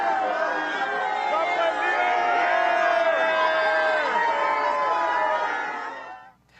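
A large crowd in St. Peter's Square cheers and shouts as Pope Leo XIV drives past, forming a dense, sustained wall of voices and whoops that fades out at the end.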